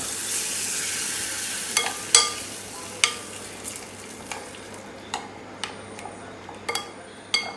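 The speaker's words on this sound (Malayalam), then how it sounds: "അതിനുശേഷം അത് നന്നായിട്ട് ഇളക്കി കൊടുക്കുക." A yogurt and potato mixture is stirred in a cooking pan, the spoon giving sharp scattered clinks and scrapes against the metal over a soft background hiss.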